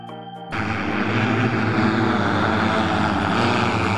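After a brief quiet moment, a loud, steady whirring roar of the Lilium Jet's electric ducted-fan engines kicks in and holds, dense and close, with no voices.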